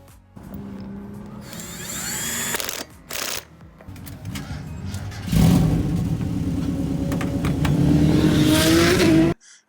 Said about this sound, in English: There's a great battle, a Spec Miata versus a C5 Corvette.